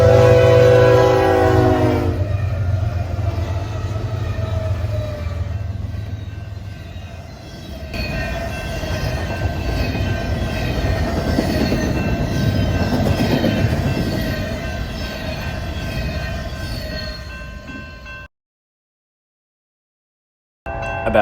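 Westbound BNSF freight train with four locomotives passing close, horn blaring at the start, then a loud roaring rumble and rattle of the cars going by for a long stretch before an abrupt cut to silence.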